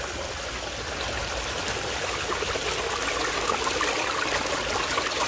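Water rushing through a recirculating sluice, a steady, close, full-bodied gurgling flow with bubbling from air pushing the water, continuous and unbroken.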